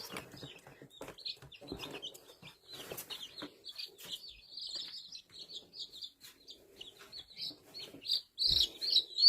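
Young chicks, bantam chicks being given to a broody hen, cheep in a high, steady run of peeps that swells louder near the end, with a few low knocks and rustles in between.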